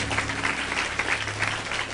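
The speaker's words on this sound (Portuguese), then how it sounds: "aplauda Jesus, igreja bem forte" Church congregation applauding strongly during a sermon, a dense continuous clapping that fills the space evenly for the whole moment, with no speech over it.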